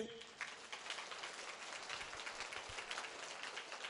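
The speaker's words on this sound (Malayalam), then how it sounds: "അത് കൈ ഉയർത്തി കൈയടിച്ചേ" A church congregation claps hands steadily during a sermon, a dense, fairly faint patter of applause filling the whole stretch.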